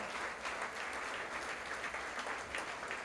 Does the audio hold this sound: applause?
yes